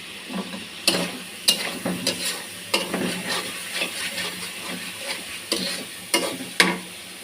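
Pointed gourd pieces fry in hot oil with salt in a pan, a steady sizzle broken by repeated sharp clinks and scrapes of a spatula stirring against the metal, close and clear with no talking.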